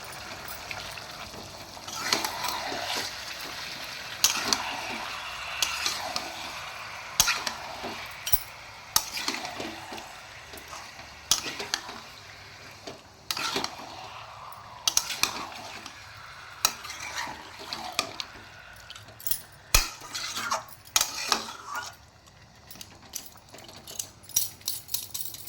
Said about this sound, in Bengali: আমি আদা রসুনটা দিয়ে 5 মিনিটের মতন ভালোভাবে কষিয়ে নেব